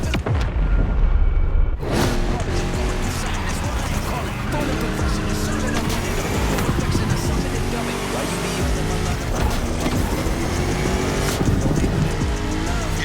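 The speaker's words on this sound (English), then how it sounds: "You're driving my #1 car, the star of my collection, the 1969 Mustang Boss 429." Loud engine roar of a 1969 Mustang Boss 429 in The Crew Motorfest racing game, revving and droning continuously with shifting pitch, a brief drop near the start, mixed with music or game effects.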